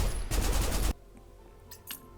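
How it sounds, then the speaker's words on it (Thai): Rapid gunfire rattles in a shooting minigame from the video game Snowbreak, a dense burst of shots for about a second that cuts off abruptly, followed by a quiet game background with faint chimes. "อันนี้ก็เป็นมินิเกมยิงปืน ยิงลูกบอลยิงกล่องเก็บแต้ม"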